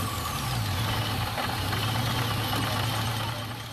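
Supercharged 4.7-liter V8 car engine running with a steady close throb and a whining supercharger hum layered above, loud and continuous, easing slightly at the end.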